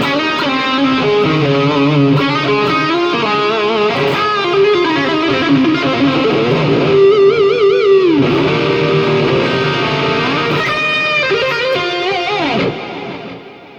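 Electric guitar played through a Kemper amp with reverb and a touch of delay, sustained distorted notes and bends ringing out with lingering tails, no voices.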